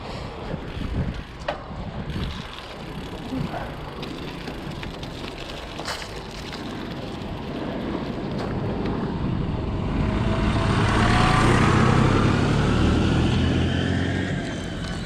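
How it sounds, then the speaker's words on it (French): A tractor approaches from behind a cyclist on a road, its engine rumble and rushing wind building steadily and peaking loud as it draws close and passes. "il y a un tracteur derrière, je vais le laisser passer"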